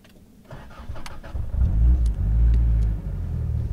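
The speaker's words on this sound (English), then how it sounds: "And then you push the start button." A 1984 Toyota Corolla Levin AE86, a modified Japanese import, started by push button: a short starter crank, then the engine catches into a loud, close, low rumbling idle with a slight rev.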